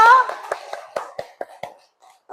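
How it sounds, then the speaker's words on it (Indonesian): A class of students in an Islamic religious education lesson claps for a classmate, a short, close run of about eight distinct hand claps in a loose rhythm that fades out at the end. "Tepuk tangan dulu untuk Kaiza"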